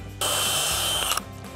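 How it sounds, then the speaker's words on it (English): A power drill runs steadily for about a second, whirring loud and close as it pre-drills a hole for a hinge on a horizontal cedar gate. It then stops abruptly. "We're gonna go ahead and pre-drill"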